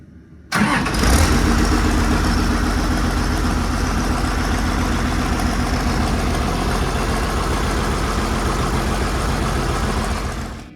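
An Allis Chalmers D17 Series One tractor engine cranks and catches after a short quiet pause, then settles into a loud, steady, low chugging idle for about ten seconds, close by, no voices.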